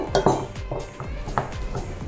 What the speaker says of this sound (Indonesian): Nah, kita aduk sampai semuanya merata.